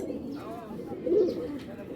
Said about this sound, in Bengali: একজোড়া হারিকেন কবুতর একদম ভাই হাতে ধরতে পারতেছি না, অনেক বিশাল বড়।